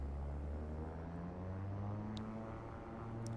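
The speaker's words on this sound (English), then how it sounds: "let's go ahead and take off" Airplane engine droning steadily during takeoff in X-Plane 12, a low propeller-like hum with tones slowly rising, constant and fairly quiet, no voices.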